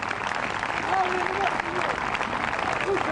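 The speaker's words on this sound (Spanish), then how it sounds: "Dame un aplauso de alabanza grande a Dios Todopoderoso." Steady applause from a crowd at an outdoor church event in a park fills the clip, a dense patter of clapping with faint voices mixed in.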